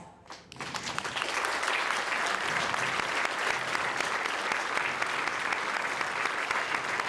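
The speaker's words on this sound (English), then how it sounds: "Can you stand up so we can give you a robust round of applause?" An audience at a US Air Force basic military training graduation ceremony breaks into sustained, even applause that swells within the first second and holds steady and full, with no voices over it.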